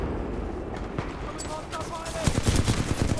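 Flatline assault rifle firing in a first-person shooter game, Titanfall 2 with the Apex Legends weapon, heard as rapid bursts of shots that grow louder near the end, under someone talking.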